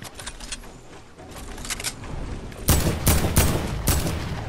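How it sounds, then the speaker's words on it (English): Gunfire in Fortnite Battle Royale: a few quieter shots early, then a loud burst of rapid, closely spaced gunshots near the end, with no talk over it. "Sorry, I'm being shot at"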